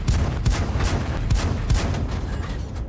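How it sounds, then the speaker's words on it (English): Tank gun fire in World of Tanks from a Cromwell, a rapid series of loud booming shots with heavy low thumps, tightly spaced over a few seconds amid battle noise. "And he gets the one shot off."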